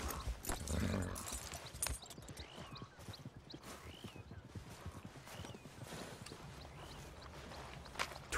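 Horse hooves clip-clopping at a steady walking pace in the video game Red Dead Redemption 2, a regular rhythm of close hoof falls with faint tack rattles and a soft whinny-like tone in the background.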